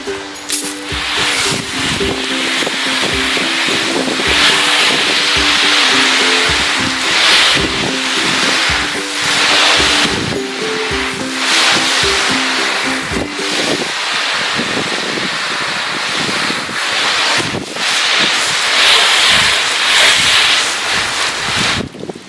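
Water sprays steadily over a car finished with a ceramic coating during a second rinse. The broad, rushing hiss is close and continuous, with a faint tonal hum beneath it through the first half.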